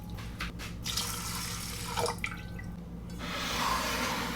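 Rice is rinsed under running water in a sink to wash off surface starch: splashing and trickling from a tap, with a few sloshes and a steadier flowing stream toward the end, close by and without speech.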